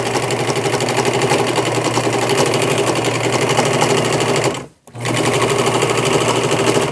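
A sewing machine stitches steadily down a t-shirt, a loud continuous rapid mechanical whir that stops briefly for about half a second before resuming at the same pace.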